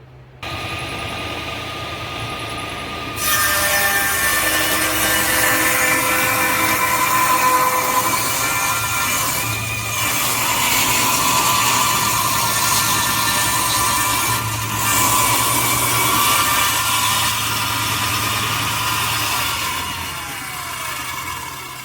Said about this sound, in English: the whole thing will be cut into 3/4 inch pieces, which we will then flip and glue back together